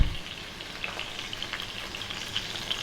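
Salmon sizzles and crackles steadily in a wok as a tablespoon of butter is added, a constant close frying hiss with small pops scattered throughout.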